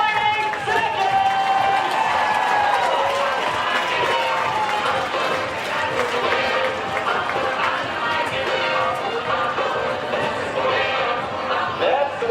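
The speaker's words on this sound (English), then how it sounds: "Give them all a great big round of applause." Rodeo crowd at the 2018 Schaghticoke Fair, a dense, sustained roar of cheering and applause filling the whole stretch at steady loudness, with voices mixed in throughout.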